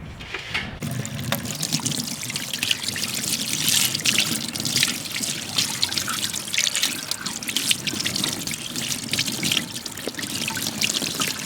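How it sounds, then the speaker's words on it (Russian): Tap water runs in a steady, close stream while salt is rinsed off briefly cured trout before smoking, a continuous splashing trickle with no talk. "Просто смываем соль"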